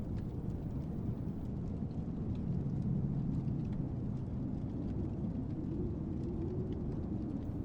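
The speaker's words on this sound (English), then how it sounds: "It's raining heavily now" Heavy rain pours steadily with a dense, continuous hiss, and low thunder rumbles softly underneath, swelling slightly midway and again near the end.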